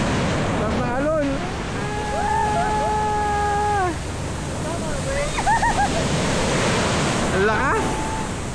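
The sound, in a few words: ocean waves at Zambales island beach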